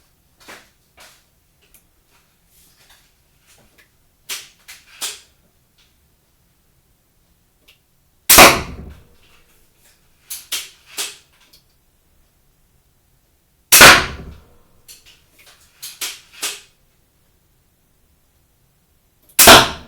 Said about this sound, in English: So I'm just going to go back now and fire the 6 shots.